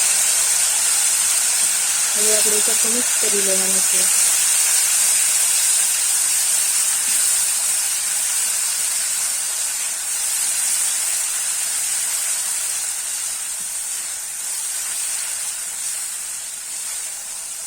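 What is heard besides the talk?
water poured into hot tempering, sizzling and steaming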